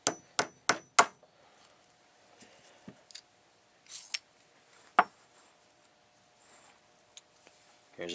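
A needle-like decapping rod is tapped through a .303 British case in a Lee Loader to knock out the spent primer. A quick cluster of four sharp metallic taps is followed by scattered lighter knocks and clicks in a quiet room.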